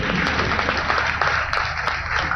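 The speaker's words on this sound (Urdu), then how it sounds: "کمزور تالیاں ذرا زور والی ہونی چاہیے" Crowd applause at a Karachi Green Line bus inauguration welcoming Prime Minister Imran Khan, a steady dense wash of clapping from a large audience that holds at an even level throughout, with no voices over it.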